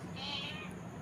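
A single drawn-out cat meow, soft and fairly close, over a faint background hum.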